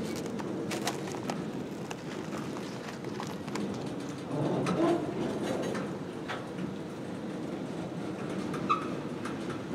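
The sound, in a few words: CSX freight train locomotive making a slow reverse move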